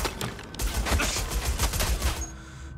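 Rapid automatic gunfire from Watch Dogs Legion during a final boss fight, a loud, dense burst of shots that stutters along for about two seconds before cutting off into quiet.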